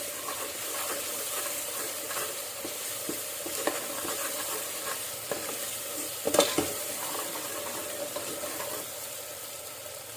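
Ginger sizzles steadily in hot oil while being stirred for a Telangana-style mutton curry, a constant close frying hiss broken by occasional scrapes and clinks of the spoon against the pan.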